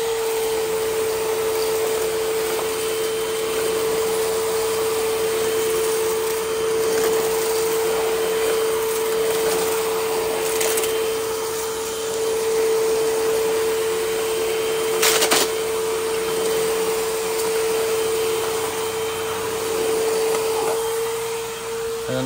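A second-hand vacuum cleaner bought at Goodwill runs during a test, giving a steady motor whine with a strong constant tone and airy rushing noise, with a few brief bumps partway through and no talking.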